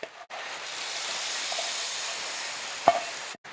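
A chilli tempering goes into moru curry with one burst of sizzling hiss that settles into a steady fizz, with a soft clink near the end.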